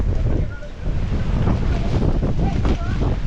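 Strong monsoon wind buffets a Ford Ikon near Amboli, a continuous loud roaring rush with heavy gusting rumble at the microphone, while a voice talks faintly beneath it.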